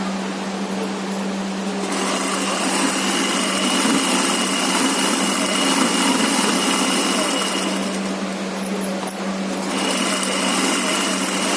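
A sewing machine hums continuously while stitching the edge of pant fabric, a steady close mechanical whir that changes slightly in tone near the start and again later as it keeps running.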